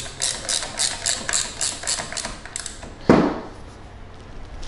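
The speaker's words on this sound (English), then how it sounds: "put your washer back, your 11/16 nut, and then just tighten it again" A ratchet wrench tightens an 11/16 nut on the wheel of a Jazzy Evo 614 HD power chair, giving a quick, steady run of close metallic clicks followed by a single louder scraping clunk.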